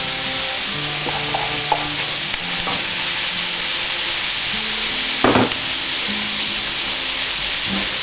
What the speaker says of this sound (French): Là, je mets les oignons.